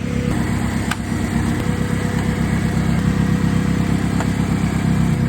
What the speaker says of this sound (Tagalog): Pinapainit lang natin para magkarga yung battery